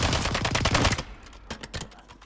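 Rapid automatic gunfire in a zombie survival shooter game, a dense burst of shots for the first second followed by scattered, sharper single and double shots at a slightly lower level.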